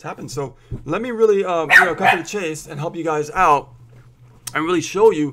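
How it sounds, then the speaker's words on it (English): Miniature pinschers bark in short sharp bursts in the background while someone talks steadily over them. "Sorry about the dogs barking, but I do have min pins and they do bark."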